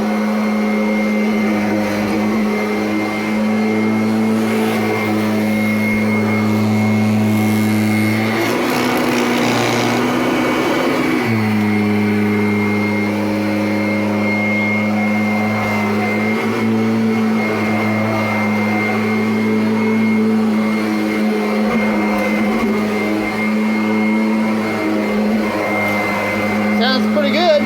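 A 2017 Kirby Avalir upright vacuum cleaner runs with a newly fitted belt, its motor holding a loud, steady tonal hum close by. The pitch shifts briefly partway through before settling again, with a person talking over it.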